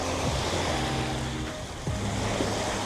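Ocean surf rolls in steadily on Miami Beach, a broad continuous wash of waves and wind noise close to the microphone, with no talking.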